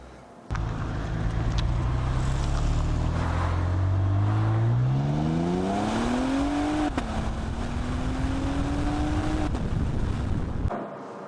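A twin-turbo Cadillac CTS-V Sport engine revs up through rising pitch sweeps, then drops sharply as it downshifts, loud and close with a steady roar throughout.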